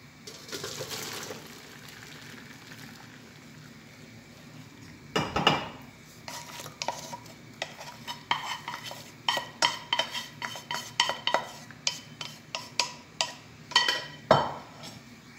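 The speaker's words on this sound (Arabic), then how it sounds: "غادي نصفي دابا لي بات حداكم" Boiled pasta being drained from a pot in a home kitchen: a brief splashing pour of water, then a string of metallic clinks and knocks of the pot and utensils, close and moderately loud.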